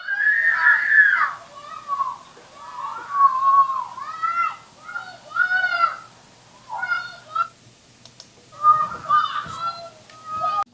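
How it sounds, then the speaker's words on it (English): Children next door yelling and shrieking at each other in high, strained bursts, close and loud, in repeated outbursts with short pauses between them. "There's kids next door just screaming at each other."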